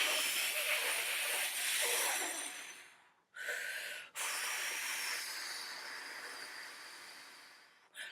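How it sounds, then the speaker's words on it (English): A person breathes out forcefully through the mouth in long, steady rushing exhalations, close and loud, with a brief pause between breaths and no talking. "I might be breathing like this."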